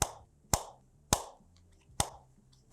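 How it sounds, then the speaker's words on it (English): The lid of a Nothing Ear (a) earbuds box closes five times, each a short, crisp thud followed by a brief soft decay, spaced roughly half a second apart in a quiet room. "I really like that nice thud sound that the box makes when you close the lid"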